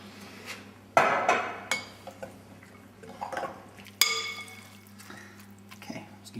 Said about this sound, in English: So we'll take our pasta and put it into our sauce and give it a very nice mix around.